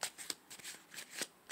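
A deck of cards is shuffled by hand up close, soft and quiet, in several quick riffling bursts with brief pauses between them.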